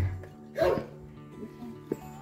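A dog barks at night outdoors in the mountains of Jiuzhaigou, China, giving one fairly distant bark followed by a couple of faint yips over a quiet background hum.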